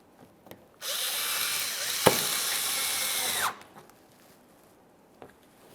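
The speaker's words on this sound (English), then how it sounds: "Let's get that 8mm headed bolt in next." A power tool whirs close and loud for about three seconds while driving an 8mm headed bolt into a Mazda 3 headlight shield, with a sharp click partway through and quiet handling noises before and after.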